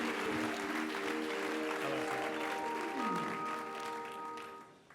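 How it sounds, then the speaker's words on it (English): A comedy club crowd at an LA Grand Slam show claps steadily for comedian David Marlett, a dense wash of applause that gradually fades over a few seconds while a few sustained tones hum underneath. "keep the applause going for David Marlett."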